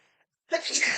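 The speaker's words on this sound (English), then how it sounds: "I'm gonna sneeze." A single loud, close sneeze bursts out after a brief faint murmur and near silence, at the start of a person's windy South Dakota outdoor chat.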